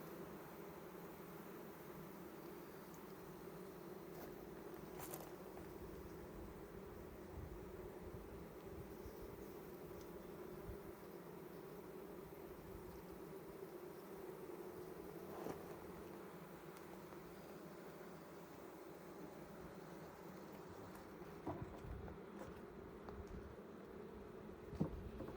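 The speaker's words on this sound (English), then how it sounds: "god dang bees" Steady buzzing of bees swarming close by around an opened hive, droning continuously with a few brief louder passes and no voices.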